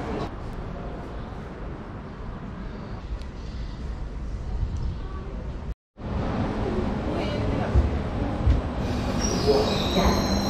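Train pulling into a station platform on a trip from Geneva toward Venice, a broad rumbling roar with squealing wheels, heard from the platform amid crowd noise and passing voices.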